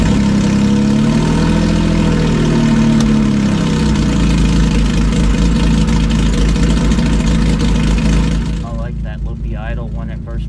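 A Porsche 997.1 with a naturally aspirated 4.1L engine runs on a dyno, loud and close with a rough, uneven idle and a short rise and fall in revs before settling and quieting near the end.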